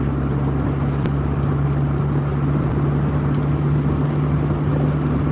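Pride car driving through city streets in Rasht, a steady low engine drone and road rumble heard from inside the cabin, constant and fairly loud with no talk.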